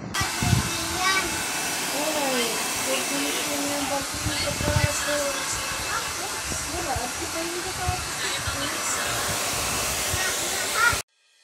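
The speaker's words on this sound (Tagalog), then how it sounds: "after ma-blue dry ang buhok ni ma'am" A hair dryer blows steadily on a woman's hair in a salon, a continuous loud whooshing hiss with voices talking over it, cutting off abruptly at the end.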